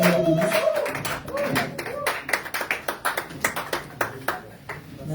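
A congregation claps in praise at a Friday prayer vigil in Baltimore. The sharp, fairly even beats fill the room nearby, and voices can be heard underneath them.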